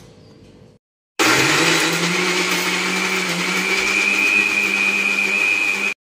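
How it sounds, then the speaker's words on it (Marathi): Electric mixer grinder in a kitchen grinding cashews and masala dry, without water: a brief muffled sound, a pause, then a loud, close, sustained whirring motor drone for about five seconds before it stops abruptly. "आता आपण मिक्सरला लावून घेऊ।"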